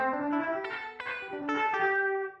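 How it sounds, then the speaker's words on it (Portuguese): Clean electric guitar notes played through a pure reverb in Audulus software, a handful of plucked tones with bright harmonics ringing into one another and a washy tail, alone with no talking. "É a guitarra pura num reverb puro com output."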